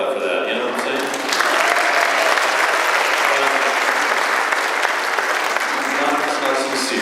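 Concert audience applauds after a wind ensemble performance of Shostakovich's Folk Dances, a dense, steady wash of clapping that swells early and holds loud throughout.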